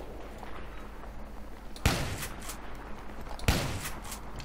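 Two loud Spas-12 shotgun blasts in the video game Battlefield 3, fired about a second and a half apart, each a sharp broadband crack with a short ringing tail over faint background game ambience.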